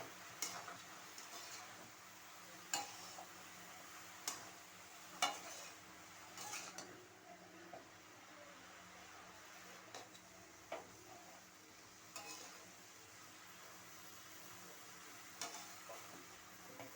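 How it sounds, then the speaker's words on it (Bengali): Bottle gourd with snakehead fish, seasoned with salt and turmeric, is stirred in a pan, giving faint, intermittent spatula scrapes and clicks over a soft, steady sizzle, with no talking. "লাউটাকে ভালো করে নাড়িয়ে এবার একটু ঢেকে দেব।"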